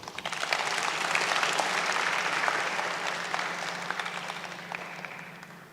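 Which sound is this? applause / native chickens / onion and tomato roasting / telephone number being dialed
applause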